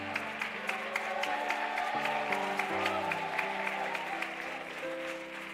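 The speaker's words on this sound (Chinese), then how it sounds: "来拍手一下" Congregation clapping during a Sunday church service, a steady wash of applause under sustained organ or keyboard chords, with no clear speech.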